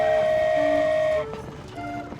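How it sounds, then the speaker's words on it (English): A train ride over the sea in the video game Genshin Impact, with a steady sustained whistle-like tone and rumbling carriage noise that drops and shifts partway through, no talking. "Wow, a train ride over the sea?"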